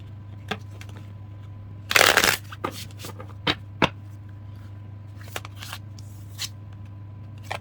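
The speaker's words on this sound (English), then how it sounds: "I'm going to get one last card for you moving forward." Tarot cards get a brief riffle shuffle close up, followed by scattered single snaps and flicks as cards are drawn and laid down, over a low steady hum in an otherwise quiet room.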